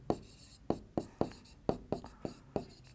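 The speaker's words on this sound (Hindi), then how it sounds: "तो हम लिखेंगे वर्ग का परिमाप" Pen or chalk writing by hand during a Hindi maths lesson on a square's perimeter, heard as about eight sharp, evenly spaced scratchy strokes. The strokes are close and distinct, with no talk over them.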